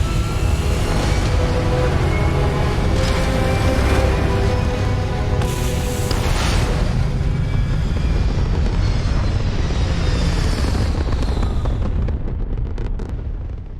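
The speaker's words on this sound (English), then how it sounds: "All thrusters firing." Spaceship thrusters in Starfield fire as a loud, continuous rumbling roar with a broad hissing wash, holding steady for the whole stretch before easing slightly at the end.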